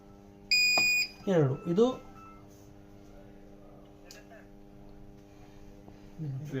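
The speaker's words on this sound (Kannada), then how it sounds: "ಫ್ರಂಟ್ ಸ್ವಿಚ್ನ 2 ಬೀಪ್ ಸೌಂಡ್ವರೆಗೂ ಪ್ರೆಸ್ ಮಾಡಿ ಹಿಡಿಬೇಕು" A V-Guard inverter emitting a single high electronic beep while its front switch is held, with a person talking close by before and after it over a low steady hum.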